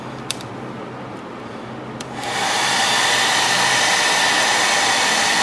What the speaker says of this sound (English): And I have dryer, not heat gun, so I'm doing with this.